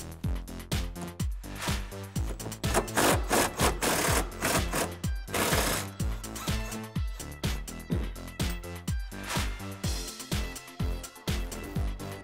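A wrench works a bolt loose on a 2005-2014 Ford Mustang S197, with a 14mm socket ratcheting in fast, regular clicking strokes, close and steady, with a short smoother spinning stretch partway through.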